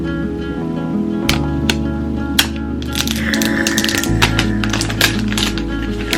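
Gold iPhone 11 Pro retail box being torn open and unwrapped by hand, with a run of crackling, tapping and ripping packaging sounds, close and fairly loud, no talk over it.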